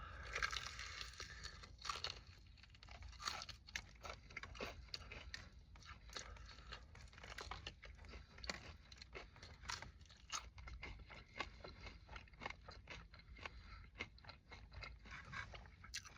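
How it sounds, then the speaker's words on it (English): Crispy Popeyes fried chicken wings are crunched and chewed close up, with repeated sharp crackling bites and steady chewing over a faint, constant background. "I don't know if you can hear the crunch, but man, they're crispy."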